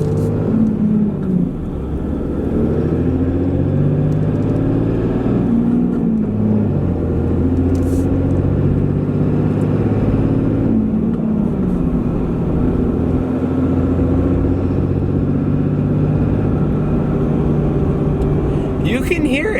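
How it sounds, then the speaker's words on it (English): A Cummins diesel pickup with its intake muffler removed idles and revs in a steady, loud rumble. A thin turbo whistle rides on top, and a voice talks over it. "There's no doubt that definitely did waken up the sound of the turbo."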